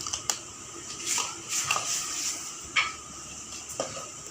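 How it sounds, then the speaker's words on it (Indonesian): A spoon stirs ground garlic and chili paste for pempek in a metal pot or bowl, giving a series of scraping clinks and soft wet squishes at an irregular pace, close and moderately quiet. "Kita aduk rata seperti ini."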